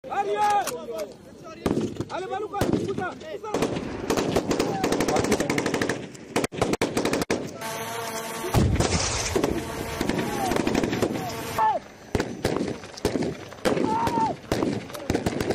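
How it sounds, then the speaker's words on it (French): Machine gun bursts crack out loudly during a military firing demonstration at an operations theatre in Ituri, in repeated rapid volleys with short gaps between them, while someone talks throughout. "aux manœuvres et démonstrations de tir dans le théâtre des opérations"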